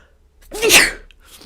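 A single sharp human sneeze, close and loud, rising from a brief intake of breath into a bright burst, then falling quiet.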